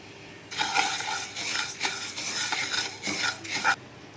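Cumin seeds dry-roasting in a metal pan rustle and scrape continuously as a utensil stirs them, a close, dense scratching with brief pauses and a sharper clink near the end.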